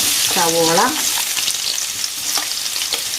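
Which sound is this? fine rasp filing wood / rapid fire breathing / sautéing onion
sautéing onion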